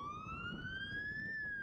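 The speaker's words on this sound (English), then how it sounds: "it's not often you hear these sirens on campus" A police car siren wails on a college campus, one smooth rising sweep, moderately distant and clear over a low background rumble.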